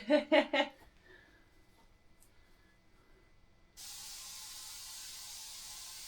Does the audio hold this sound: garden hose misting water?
yes